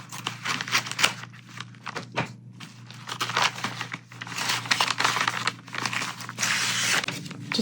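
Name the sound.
opening plastic packaging of diamond painting kit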